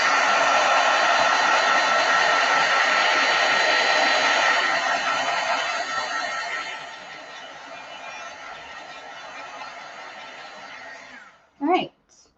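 A handheld heat tool blows a steady, loud whooshing hum to heat-set ink on cardstock, then winds down and cuts off near the end, followed by a brief rustle.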